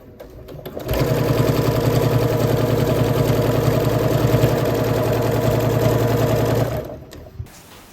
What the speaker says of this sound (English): Start stitching that 1/4 inch in from the end.